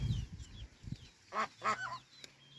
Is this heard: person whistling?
no